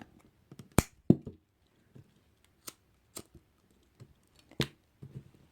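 Scissors snip off excess material while making a Hello Kitty kandi bra, giving a handful of sharp, separate clicks and snips spread out in quiet, with one or two louder cuts standing out.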